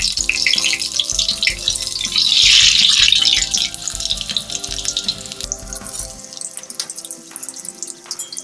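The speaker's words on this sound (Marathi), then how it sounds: "आता थोडा मिडियम गॅसवरती आपल्याला हे छान भाजून घ्यायचं." Stuffed chilli bhaji frying in oil over a medium flame, a loud close bubbling sizzle with a brief surge of hiss partway through, then a calmer crackle toward the end, with no talk.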